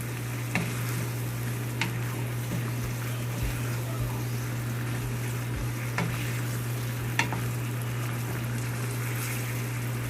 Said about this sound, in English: Just gonna keep stirring it for 2 minutes.